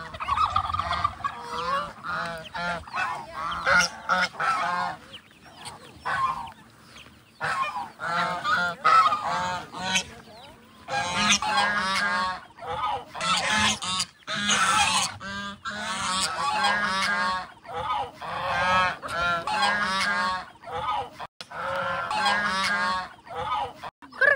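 Loud, continuous honking and gobbling calls from a flock of turkeys, close by and overlapping almost without pause.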